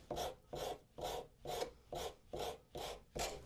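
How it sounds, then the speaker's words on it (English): Rubber contour sander worked back and forth over a guitar neck, seven even rasping strokes in a steady rhythm, close and fairly quiet with no talking. "rubber contour sander."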